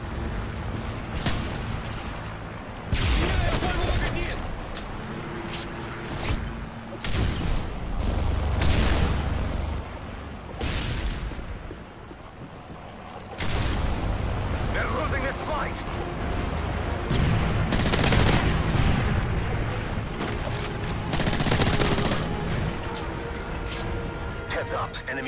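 Video game battle with heavy gunfire and booming explosions, including a friendly Hind helicopter's attack, loud and dense, while voices keep talking over the combat.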